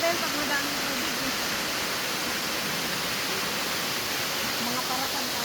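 Ra Falls, a waterfall full of water, rushes in a broad, steady roar of white noise that fills the whole stretch without a break, loud and close, with no voices heard.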